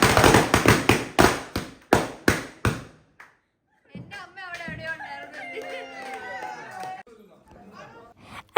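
Firecrackers burst at New Year in a rapid string of about eight sharp, loud cracks over three seconds, then stop; after a short silence, voices and chatter follow.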